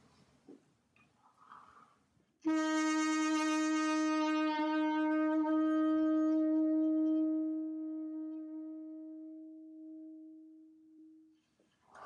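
A single sustained brass tone swells in loudly, holds steady with slight wavering, then gradually fades and cuts off, with quiet breathing before and after.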